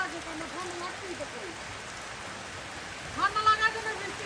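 Steady rain falling outdoors, a soft continuous hiss of drops, with a voice speaking briefly near the start and again near the end.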